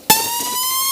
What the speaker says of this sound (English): The blaring of sirens